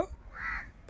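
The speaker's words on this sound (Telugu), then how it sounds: "కాకి సౌండ్ తప్ప కోళ్ళ అరుపులు అయితే లేవండి." A crow caws once, a drawn-out harsh call heard near a village house with no roosters crowing, over low background rumble.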